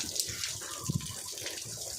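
Water runs and splashes while a pet pig is being bathed, a steady close rush with a couple of brief splashy bumps.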